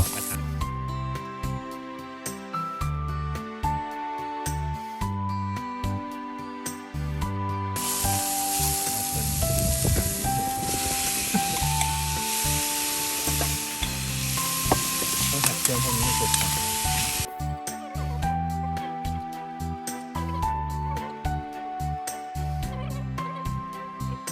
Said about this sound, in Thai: ทำเมนูไข่กระทะนะครับ โดยใช้ เตาแก๊สกระป๋อง